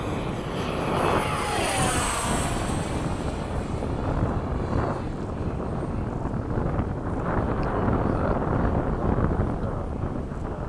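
FMS 70mm F/A-18 RC jet making a low pass at an airfield under cloudy skies, its steady electric ducted-fan roar swelling close then fading, with wind buffeting the microphone throughout.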